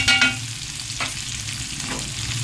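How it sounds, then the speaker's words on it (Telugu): Brinjals fry in a pan with ginger garlic paste for gutti vankaya pulusu, a loud close sizzle with a sharp spatter at the start, then a steady hiss with light stirring clicks. "చూడండి, వంకాయలు వేగుతున్నాయి కదా"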